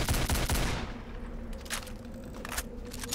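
A rapid, loud automatic burst rattles at the start of a Return to Castle Wolfenstein fight, then fades into scattered softer shots and clatter.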